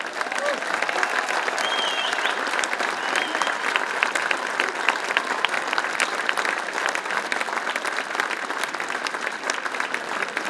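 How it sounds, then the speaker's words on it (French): A large audience gives a sustained ovation at a gathering of the Grimaldi historic sites in Monaco, loud dense clapping holding steady throughout, with a few faint whistles rising above it. "je voudrais que vous leur fassiez une véritable ovation"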